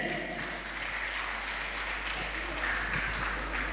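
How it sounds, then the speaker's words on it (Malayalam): Steady, moderately loud clapping rises from an audience at a school alumni gathering in an LP school, continuous for several seconds with no pauses. "എല്ലാവരും ഒന്ന് കൈയടിച്ചേ."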